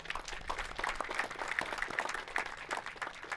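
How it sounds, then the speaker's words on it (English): A ribbon-cutting ceremony audience at a municipal court applauds with steady, moderately distant clapping from a crowd, fairly even throughout with no talk over it. "Let's give them all a round of applause."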